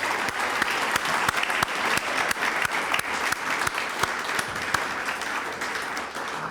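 Sustained applause from a dinner crowd thanking volunteers at a USMC benefit dinner, dense steady clapping that stays loud and even throughout, with no voices rising above it.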